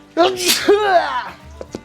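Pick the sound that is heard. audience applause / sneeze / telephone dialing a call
sneeze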